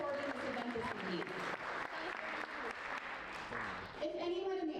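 Audience applause at an evening school event, a continuous wash of clapping with voices speaking and calling out over it throughout.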